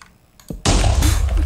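An explosion in a Minecraft-style video game lab test: a faint thud, then a sudden loud blast that swells into a roaring, rumbling burst for the rest of the short moment.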